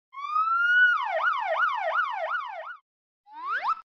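A police car siren rises into a quick repeating wail with about five fast sweeps, then cuts off and gives one short rising whoop after a pause, clear and alone.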